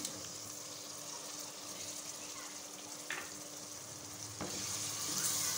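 Yogurt frying with spiced masala in a pan over a normal flame, a dense even hiss of sizzling with a couple of brief stirring scrapes, moderately quiet, the hiss swelling slightly toward the end.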